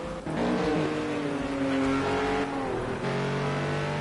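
GT3 race cars, including a Bentley and a Renault, race at Brno in Project Cars 2, engines revving and shifting loudly through gears with rising and falling pitch, no talk over it.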